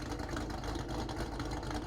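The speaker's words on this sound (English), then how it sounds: "And the idle is also really nice." A car engine idling in the video game Driving Empire, a faint steady low rumble with a slight pulsing texture and no speech.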